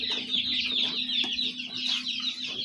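A brood of day-old and week-old chicks peeps and clucks continuously in a pen, many high, busy calls overlapping close by.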